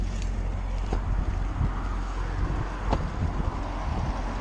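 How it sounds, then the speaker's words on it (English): A Chevrolet Corvette engine idles just after start-up with a continuous deep, rumbling drone. It is close and fairly loud, with no talking. "That engine is beautiful."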